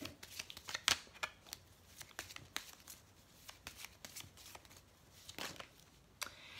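Oracle Lumière cards are shuffled quietly nearby in a string of soft, papery riffles and slaps, uneven in pace, with no speech.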